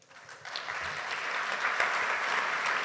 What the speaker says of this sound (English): So applause for the Notre-Dame de Paris restoration outreach.